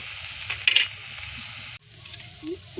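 Bitter gourd stirred and frying in a pan with spices, a steady close sizzle under scraping spatula strokes, a cut at mid-clip, then a quieter sizzle.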